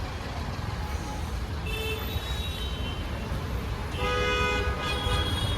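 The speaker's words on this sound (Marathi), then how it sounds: "एवढी ट्रॅफिक आहे" Heavy road traffic in Bhiwandi rumbles close by as engines idle and crawl, with car horns honking in separate bursts, a longer tonal blare arriving near the end.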